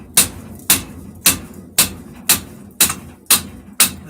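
Eight sharp, evenly spaced hammer blows strike a Triumph Spitfire suspension upright, each a loud metallic crack with a short ringing tail, close by and steady in rhythm.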